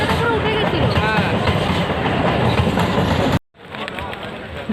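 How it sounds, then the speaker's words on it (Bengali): A train rumbles loudly past a railway crossing, a steady close roar of wheels and carriages that stops abruptly, then resumes more faintly, with voices in the background. "আমরা পার হতে পারিনি, আবার একটা ট্রেন চলে এসেছে।"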